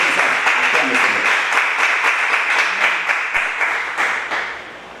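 A church congregation claps steadily in a dense, even rhythm, loud and close, with voices mixed in throughout and the clapping tapering slightly at the end.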